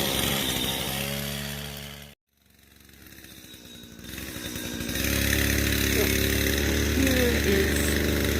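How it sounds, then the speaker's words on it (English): Loud buzzing motor of a string trimmer nearby, cutting out briefly, then revving back up to a steady, harsh drone. "somebody got to do some weed whacking when I'm trying to do a video"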